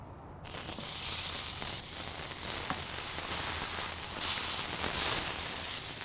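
Clarified butter sizzles steadily on a Ballistic griddle, a continuous close, bright frying hiss that holds level for several seconds with no talking.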